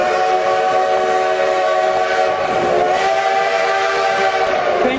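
Eureka, a narrow gauge steam train, blows a long, loud whistle: a steady chord-like blast sustained throughout, close by, with rumbling running noise underneath.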